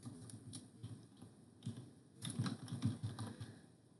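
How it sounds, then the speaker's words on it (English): Soft, steady computer keyboard typing as search words are entered, quick irregular key taps close by but faint, no voices. "We type in the following search words"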